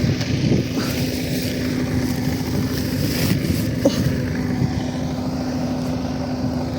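A low, steady tractor engine drone hums continuously in the distance as it plows a field, mixed with wind rumble against the microphone.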